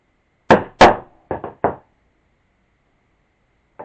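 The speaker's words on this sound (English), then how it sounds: "I'm going to use this straight edge here to punch my slit" Straight edge struck to punch a slit in leather while repairing a WWI binocular case: five sharp knocks in two quick groups, the first pair loudest, then a faint sixth tap after a pause.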